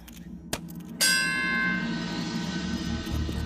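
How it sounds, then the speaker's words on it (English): A boxing match's opening bell rings once, bright and sharp, its metallic tone ringing out and slowly decaying over steady arena crowd noise, after a brief knock just before. "And there's the opening bell."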